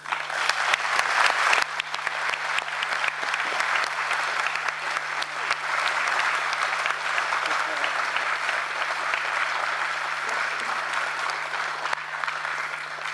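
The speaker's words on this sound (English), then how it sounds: "I would like that we all give her a warm round of applause" Warm, sustained applause from delegates at a World Heritage Committee plenary session, a dense steady round of clapping filling the hall for over ten seconds with a steady hum beneath.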